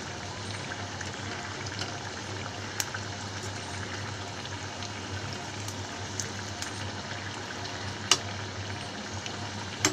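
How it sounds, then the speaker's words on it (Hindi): Aloo tikki frying in a pan until golden brown, a steady low sizzle and bubbling hiss throughout with occasional small pops and clicks, close and even, no one speaking. "इसे गोल्डन ब्राउन होने तक फ्राई करेंगे।"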